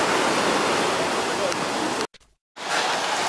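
Sea waves washing onto the beach at Alanya, Turkey, on a summer evening: a steady, loud broadband rush of surf that cuts off abruptly for about half a second before resuming.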